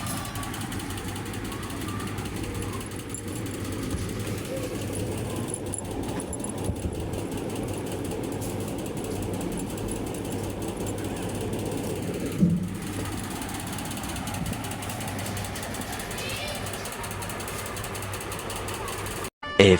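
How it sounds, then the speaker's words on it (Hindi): A household washing machine runs with a steady, low mechanical drone that holds constant throughout, with a brief knock near the middle and a sharp clunk at the very end. "तो वॉशिंग मशीन भी लगा ली हमने"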